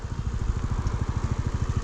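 A fuel-injected Honda Dio 110 scooter engine hums while riding at speed, a close, steady pulsing drone with a regular beat and no talk.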